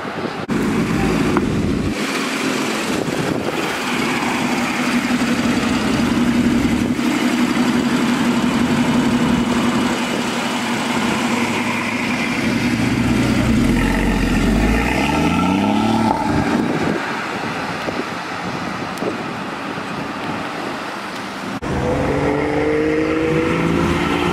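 An Aston Martin pulls away from a car meet, its engine rumbling nearby and then revving with rising, sweeping pitch as it leaves, followed by quieter engine noise from other cars.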